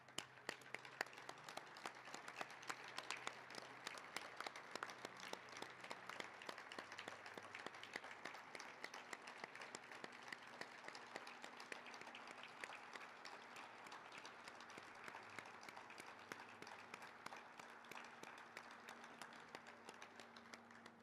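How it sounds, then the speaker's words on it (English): A crowd at a Pasadena Veterans Day ceremony applauds, steady dense clapping sustained for about twenty seconds at moderate distance, with no pauses. "give you a huge round of applause"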